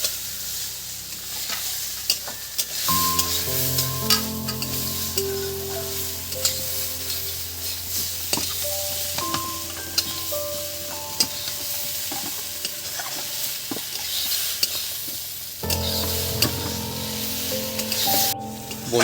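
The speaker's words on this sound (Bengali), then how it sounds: "সুন্দর করে নেড়ে চেড়ে নেওয়া হচ্ছে দেখুন একদম" Potatoes and fish roe being stirred in a frying pan, a steady soft sizzle with repeated scraping strokes of a spatula, close and alone.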